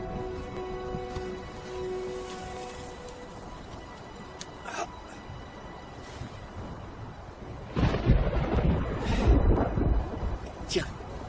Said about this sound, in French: Mais ce n'est qu'une tempête, Eric!